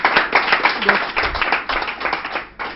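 Audience applause on a French television studio set during an anniversary special, dense and steady clapping that lasts the whole short stretch with a brief dip near the end.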